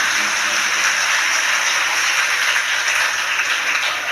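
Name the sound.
audience applause welcoming the chief host family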